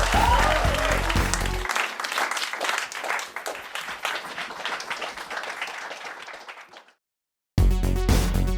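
Audience applause and clapping for an act at a live show, loud and sustained for about seven seconds with a little cheering, then a brief silence before music cuts in.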